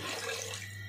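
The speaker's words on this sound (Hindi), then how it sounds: "यहाँ पे इसमें मैं 1 किलो पानी शामिल करूँगा" About one kilogram of water pouring into a cooking pot for chicken vegetable soup, a brief steady splashing rush with a low hum underneath and no voices.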